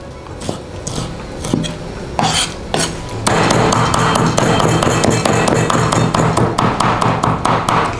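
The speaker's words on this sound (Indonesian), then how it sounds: "Kita potong kecil-kecil dulu kayak gini udangnya." A knife chops cleaned, peeled shrimp into small pieces on a cutting board, making a close, steady run of quick taps that grows denser and louder partway through, with no talk.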